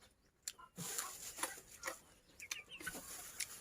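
Chickens clucking outdoors in a rural field setting, a few short, soft clucks and scattered pecking taps, faint and somewhat distant against a light background hiss.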